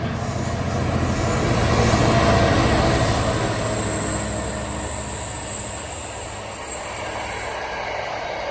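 A long freight train rumbles steadily past, a continuous heavy rolling of wagons with a faint high wheel squeal, no voices.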